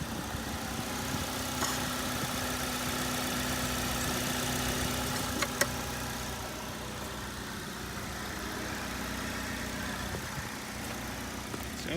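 A car engine idles steadily at a salvage auction inspection, a faint low continuous rumble with a ticking exhaust leak, heard from a short distance with no voices over it.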